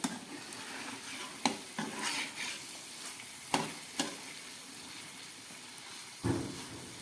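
Fish curry simmers and sizzles softly in a pan as slit green chillies are added, with several sharp clinks of a utensil against the pan over a low, steady frying hiss.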